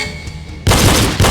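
Video-game pistol shots in a shooting drill with moving targets: a quiet lull, then two loud close gunshots about half a second apart.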